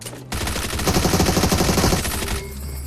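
Rapid automatic gunfire bursts loud and close in PUBG Mobile, a sustained chattering volley of about two seconds that cuts off abruptly, with quieter game sound before and after.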